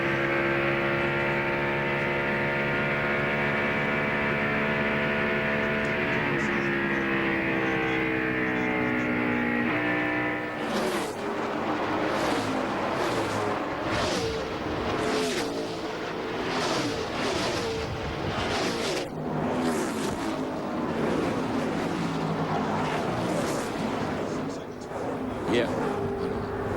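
NASCAR Winston Cup race cars roar around Atlanta Motor Speedway during the 2001 Cracker Barrel Old Country Store 500: a loud sustained engine drone, then a rapid string of cars blasting past close by, one pass after another.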